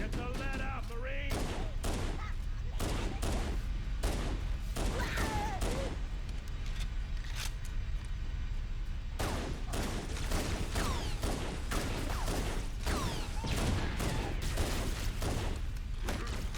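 Rapid bursts of automatic and single-shot gunfire in Halo: The Master Chief Collection multiplayer, crackling in dense, repeated volleys for the whole stretch, with a player talking faintly underneath.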